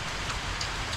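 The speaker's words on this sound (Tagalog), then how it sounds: "Kaso may ulan." Steady rain falling outdoors in the Philippine countryside, a dense even patter on surfaces that continues unbroken and fairly loud, with no voices.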